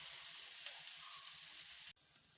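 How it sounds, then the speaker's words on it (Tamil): Potato fry sizzles in a pan as a steady, quiet hiss of hot oil, close and even, cutting off abruptly near the two-second mark before resuming. "இது பார்த்திங்கன்னா உருளைக்கிழங்கு ஃப்ரை வைக்கிறேன்"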